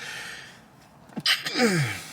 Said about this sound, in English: That sneeze hurt my whole body.